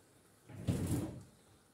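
A kitchen drawer pulled open to take out a knife, one short, soft sliding rumble close by in an otherwise quiet room.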